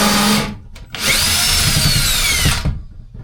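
Power drill boring a hole through a Bay Craft 210 boat hull to fit a wash-down pump; loud, close whine that starts briefly, pauses, then runs steadily for about a second and a half before stopping.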